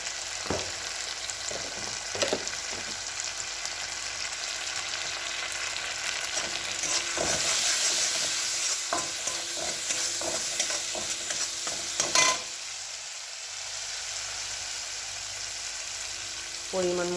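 Turmeric and chili powder fry in oil with a splash of water, giving a steady hissing sizzle while a utensil scrapes and clicks through the pan in irregular strokes; faint background sound, no clear talk.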